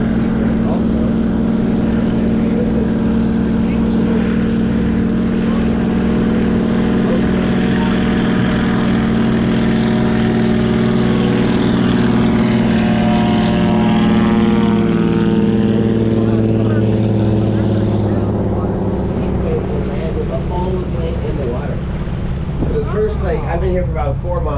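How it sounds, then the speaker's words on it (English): A float plane's propeller engine passes over the harbor at Ketchikan, Alaska, with a loud, steady drone whose pitch sweeps downward as it flies by, then fades. "Float plane. I used to call it seaplane also."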